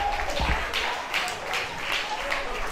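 An audience at a violin semi-final claps steadily after a performance, a moderate, even patter of many hands with periodic swells throughout.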